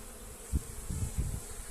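Honey bees buzz on a packed hive frame with fresh brood during a queenless split. The close, low droning hum swells in a few brief surges as bees move about, with no talking.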